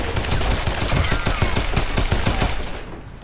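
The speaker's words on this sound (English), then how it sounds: "Or you could just shoot it." Rapid automatic gunfire in Call of Juarez: The Cartel, a quick run of roughly a dozen sharp shots in steady rhythm, loud and close, trailing off at the end.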